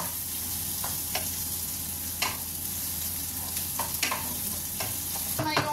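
Onions frying in a pan just before garlic goes in, a steady close sizzle with scattered spoon scrapes and stirring clicks throughout, no voices.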